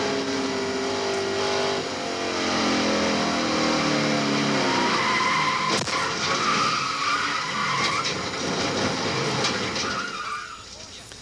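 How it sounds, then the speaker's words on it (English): Stock cars crashing and skidding at the Daytona 500, with tires squealing and engines roaring for several seconds as a race commentator talks over the noise. "Big accident early in the Daytona 500 ended the racing day for a number of the favorites"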